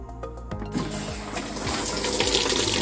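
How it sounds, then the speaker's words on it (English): Hot water gushes into the basket of a Maytag Centennial washing machine, a steady, loud rushing flow that starts just after a few mechanical clicks and keeps going, with no talking. "If I press this button now, the machine lets hot water into the basket"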